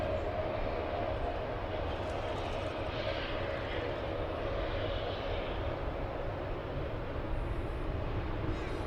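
Virgin Australia Boeing 737 Max 8 at Sydney Airport, a distant, continuous engine roar with a faint whine, steady and low throughout.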